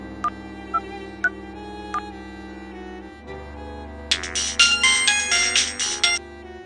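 A phone rings while a call is placed: a few short tonal beeps, then after a pause a bright, warbling ringtone melody plays in rapid bursts, loud and close.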